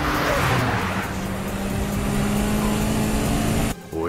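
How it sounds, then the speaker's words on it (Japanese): Tuned car engine roaring as it chases from behind in an anime street race on a highway, a loud, sustained rising drone with tire noise that cuts off sharply near the end. "追い上げてくるこの音、そう、山本が睨んだ通り、こらしげの音だ。"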